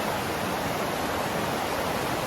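A river rushes beneath a suspension bridge on Gunung Halau-Halau, making a constant, dense roar of flowing water that stays steady and close throughout, with no voices.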